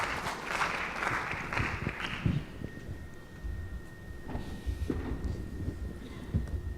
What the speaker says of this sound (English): please give a big applause to Rohit